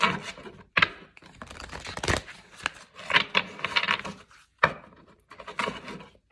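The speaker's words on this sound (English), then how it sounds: "Do one more shuffle, please." Tarot cards are shuffled in quick rustling, riffling bursts separated by short pauses, close and crisp with soft tapping and sliding in between.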